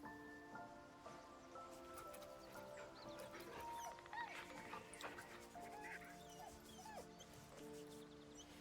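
A dog in the video game Baldur's Gate 3 gives soft whimpers and yips over a quiet game soundtrack with sustained musical tones, faint and intermittent.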